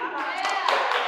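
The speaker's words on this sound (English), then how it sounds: "You can applaud now before the animation." Applause from an audience in a classroom talk about song verses, a dense steady patter of many hands clapping close by for about a second, with no speech over it.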